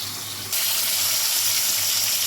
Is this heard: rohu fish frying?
yes